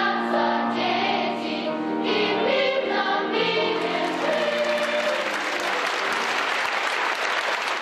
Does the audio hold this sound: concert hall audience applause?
yes